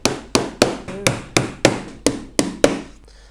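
A hammer drives pins into a wooden National beehive brood body to fix a locking bar to the inside wall, giving nine sharp, loud, evenly spaced knocks close by, each ringing briefly.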